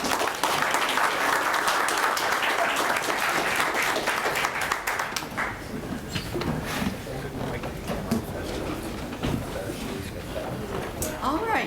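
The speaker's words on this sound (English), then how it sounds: "Let's give them a round of applause." Round of applause at a Salem city council meeting, a steady wash of clapping from the chamber that gradually thins out and fades into room noise and low voices.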